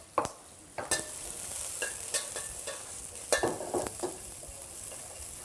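Onion and garlic are stir-fried in a pan beside pan-fried salmon, giving a steady low sizzle broken by sharp spatula knocks and scrapes at irregular intervals, close up, with no talk.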